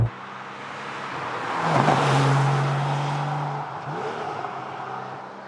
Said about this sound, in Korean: 이 차가 싹 지나갈 때 들리는 그 배기음이 실내보다는 확실히 더 농밀하게 존재감을 드러내기도 하죠